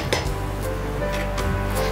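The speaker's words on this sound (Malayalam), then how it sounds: "പാത്രം അടച്ചിടാം വീണ്ടും." A metal cooking pot of jackfruit and conch puzhukku gets its lid set back on, giving a short clink and clatter of metal near the start over a steady low stove hum, no talking.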